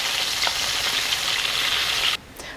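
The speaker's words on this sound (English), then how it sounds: "it's gonna fry for about 8 to 10 minutes total" Breaded chicken fried steak frying in hot oil, a steady loud hiss and crackle that drops away suddenly near the end.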